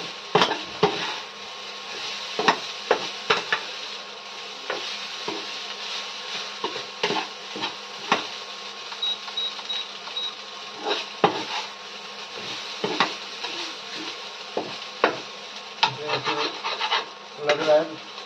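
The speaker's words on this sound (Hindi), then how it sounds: "चलाते रहेंगे अच्छा से ताकि जले ना नीचे से" A spoon scrapes and rubs against the bottom of a cooking pot while stirring a spinach and chana dal curry, in repeated irregular strokes that are close and fairly loud over a quiet background.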